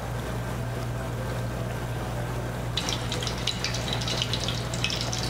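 Pork cutlet lowered into oil heated to 170 degrees for Japanese tonkatsu, giving a steady close bubbling hiss that bursts into a brighter, crackling sizzle partway through and keeps going without talk.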